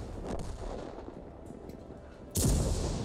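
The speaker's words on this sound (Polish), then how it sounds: "Zadajemy mu kolejny strzał." A single heavy tank cannon blast from an Object 277 in World of Tanks booms suddenly after a stretch of low, rumbling battle ambience, loud and close, with a brief decaying echo.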